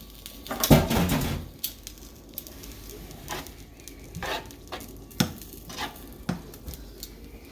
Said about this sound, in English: Now I like to put the pasta in the pan with the sauce and let it cook into the noodles a little bit.